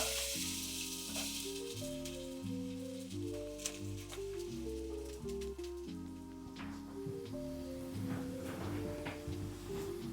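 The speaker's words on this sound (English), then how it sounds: "Just adding some oil to the pan, and then I'm gonna put the potatoes in." Potatoes frying in oil in a pan, a quiet, steady crackling sizzle with some stirring, heard alone without talking.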